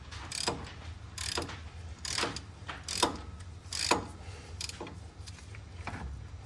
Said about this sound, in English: Take my socket and start cranking her down.